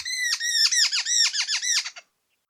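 A jungle babbler calls alone in a rapid series of harsh, nasal squeaky notes lasting about two seconds, loud and close, then falls silent.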